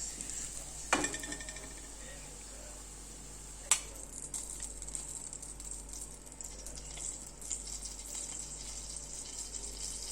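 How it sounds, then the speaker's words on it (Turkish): Carrots stirred and fried in oil in a pan for Uzbek pilaf, a steady soft sizzle throughout with a couple of sharp utensil knocks against the pan, fairly faint and close. "Havuçları da şöyle bir çevireceğiz."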